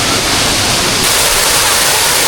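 Waterfall at Ramoji Film City roars as a loud, broad, unbroken rush of falling water, close and steady with no voices.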